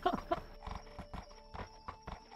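A horse in a video game clip-clops in an uneven walking rhythm, with a short whinny near the start, close and moderately quiet.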